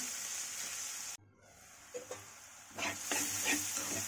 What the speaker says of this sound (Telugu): ఉల్లిపాయ వేగిపోయిందండి, గోల్డెన్ బ్రౌనిష్లో వచ్చింది కదా కలర్.